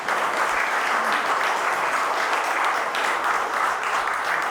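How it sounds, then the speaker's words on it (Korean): A live audience claps steadily for a doctor at the close of an evening health lecture, a dense, sustained round of applause that holds at an even level from start to finish with no voices over it. "저희 수고해주신 백승호 의사님 다시 한번 큰 박수 부탁드리겠습니다"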